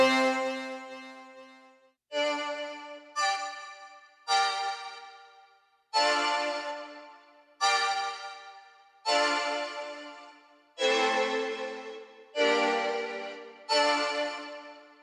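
A sampled string phrase in a UK drill beat, about ten bright, sustained notes, each swelling and fading in a steady stepping melody, with no voices.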